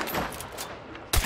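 Sniper rifle shots ring out in the video game Hunt: Showdown, with several distant reports and then one sharp, louder crack near the end.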